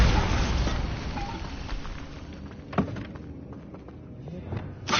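A Bombarda explosion spell in a video game bursts with a heavy, loud boom at the start and fades into a rumbling tail, followed by a couple of smaller sharp pops over quiet ambience.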